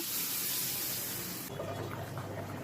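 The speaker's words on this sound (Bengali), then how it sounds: "এখন পানি দিয়ে দেব" Water poured into a cooking pan of sautéed fried pumpkin and masala for a Bengali puti fish curry, a rushing splash that shifts to bubbling as the liquid settles.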